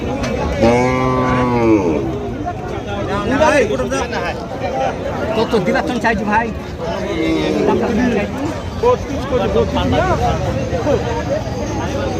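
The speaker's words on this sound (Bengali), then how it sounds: "আজকে দিনাজপুর সেতাবগঞ্জ হাটে গাই গরুগুলো বিক্রি হচ্ছে" Cows low loudly at the Setabganj cattle market in Dinajpur, with one long, close moo at the start and more calls amid steady crowd chatter and people talking nearby.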